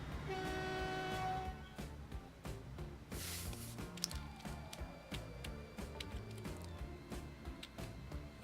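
Trains in the Transport Fever video game, with a sustained horn tone at first, then soft rolling rail clatter and rhythmic thumps under a quiet background, faint overall.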